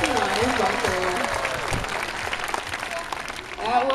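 Audience applause rises for a dancing sea lion at a sea lion show at the Atlantis aquarium, steady clapping from a crowd heard beneath an announcer's voice.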